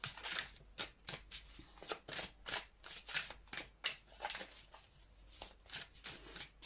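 Tarot cards shuffled by hand for a reading, a steady run of quick riffling bursts, close and fairly quiet, with no talking.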